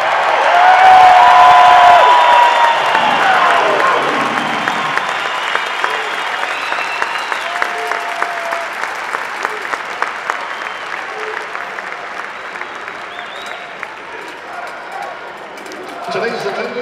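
A large arena crowd at a university basketball game applauds and cheers for the seniors in a loud, sustained roar of clapping that slowly thins into scattered claps, with a public-address voice heard early on.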